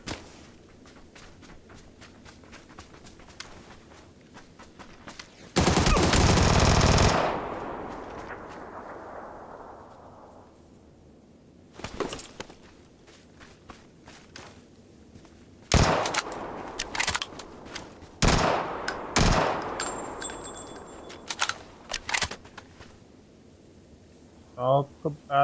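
Video game gunfire: a loud, sustained burst of shots early, then scattered single and clustered reports over low ambient game noise, with footsteps in between.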